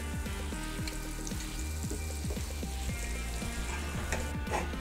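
Bottle gourd paplet fries in oil in a covered pan, a steady soft sizzle with crackling pops throughout, close and even.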